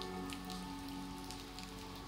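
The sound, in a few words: rain falling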